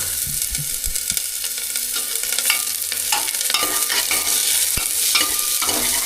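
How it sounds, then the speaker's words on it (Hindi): Onions fry loudly in hot oil, a bright crackling sizzle punctuated by the scrape and clatter of a spoon stirring the pan. "अब इसके अंदर तेल को डाल देता हूँ फ्राई होने के लिए। इसके अंदर प्याज को डाल देता हूँ अब,"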